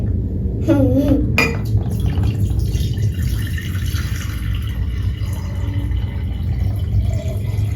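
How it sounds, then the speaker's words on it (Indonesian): A toddler pours water into a bowl amid clinks of dishes and cutlery, a continuous splashing trickle under a busy kitchen background, with a brief voice early on. "Zen tuang airnya ke dalam sini"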